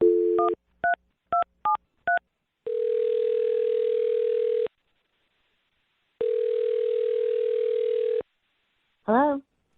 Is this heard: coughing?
no